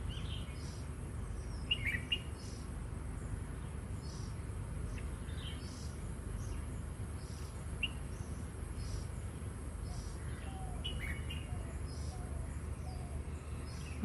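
Birds, doves among them, call outdoors on a calm afternoon among trees. Scattered faint chirps and tweets sit over a steady low background hum and insect-like buzz, with no clear voice.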